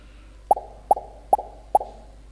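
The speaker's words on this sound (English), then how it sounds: "give the pop sound 4 times" A cartoon pop sound effect plays four times, each a short, bright plop at an even pace of a little under half a second, over a quiet background.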